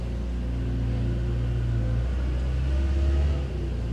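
A tractor engine drones steadily outside, a low continuous rumble with slight shifts in pitch, muffled and moderately loud, no voices.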